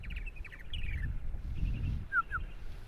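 Purple martins chirping on Eastern Long Island in spring, several faint gurgling chirps and short rising calls at a distance over low background rumble.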